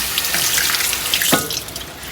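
Fresh small gooseberries are washed under a running kitchen tap, a steady close hiss of flowing water with splashing as the fruit is rinsed.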